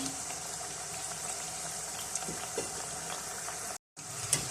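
Sweet tikkis fry in hot oil with a steady, soft sizzle and bubbling that runs continuously, broken by one brief silent gap near the end.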